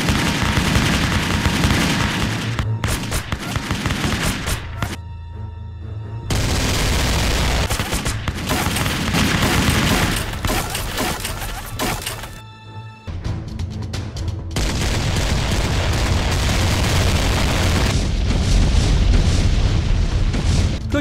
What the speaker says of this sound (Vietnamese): Tiếp tục cho pháo kích.